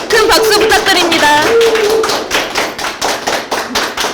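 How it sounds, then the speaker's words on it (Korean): An audience at a gallery exhibition opening claps to welcome the artist, a burst of dense, close applause that rises after a voice speaks briefly and then carries on steadily. "큰 박수 부탁드립니다"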